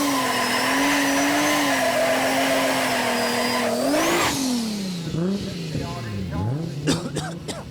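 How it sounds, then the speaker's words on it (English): 1200 hp Toyota Supra drag race car at a drag strip, with a loud, sustained high-pitched engine drone that rises, then drops into rough revving, tire noise and crackling bursts. "welcome to the genuine 1200 brake horsepower of the Calder Race Development's Toyota"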